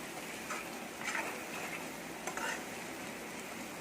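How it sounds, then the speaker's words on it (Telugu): Prawns frying with coriander and curry leaves are stirred in a pan, giving a steady low sizzle with soft scraping ticks of the spatula, close and quiet, with a voice speaking faintly at times. "ఇప్పుడు ఒకసారి బాగా కలుపుదామండి"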